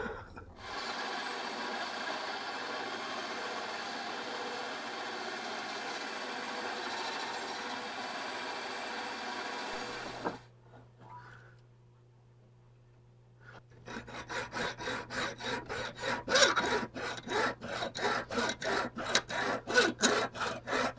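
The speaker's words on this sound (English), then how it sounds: "I do have this big old hunk of sprue that needs to come off. I think I might do this at the bandsaw." A bandsaw with a fresh blade cuts a large sprue off a metal casting, a loud, steady rasping cut for about ten seconds, then a brief lull and a run of rapid, rhythmic scraping strokes.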